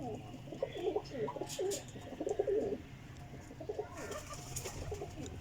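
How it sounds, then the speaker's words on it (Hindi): Pigeons coo in soft, repeated low phrases through the first half, close by, with flutter and faint background noise, among a batch of flying pigeons shown for sale in Jhelum, Sarai Alamgir. "माशाल्लाह कबूतर वेखदे जाइयो, 1 नंबर क्वालिटी के कबूतर आ गए जे"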